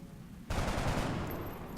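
Loud burst of automatic gunfire erupts suddenly after a quiet half second in the XCOM turn-based strategy game, sustained dense rattling shots with no talk.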